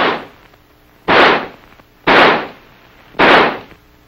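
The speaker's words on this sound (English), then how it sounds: "By closing the bolt and turning the selector lever to semi, the rifle will fire semi-automatically." An XM16E1 rifle fires semi-automatically. Three loud, close single reports come about one second apart, each a sharp blast with a brief decay and quiet between shots.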